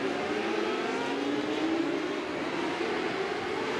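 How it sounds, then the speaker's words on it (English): Non-wing 600 sprint cars race on an indoor paved track at the 2016 Rumble in Fort Wayne, a continuous roar of engines sweeping past at steady loudness without commentary. "The non-wing Dirt 600s, here they come."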